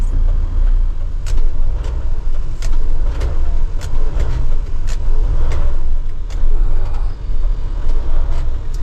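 A 6-ton truck stuck in mud, its engine running loud and close throughout with repeated surging revs and dips in a steady rhythm, rough and heavy, no talking.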